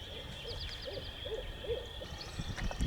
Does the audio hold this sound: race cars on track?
no